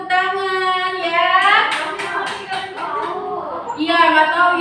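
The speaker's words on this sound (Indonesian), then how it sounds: "Oke, udah tepuk tangan ya." Children in a classroom clap their hands in a quick run of sharp claps, mixed with lively, sing-song children's voices that carry on before and after.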